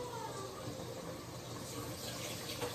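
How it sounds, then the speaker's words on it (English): Tap water runs steadily into a sink as food is rinsed after being cut and prepped on a table, a continuous close splashing wash heard alone without speech. "But I gotta rinse it off"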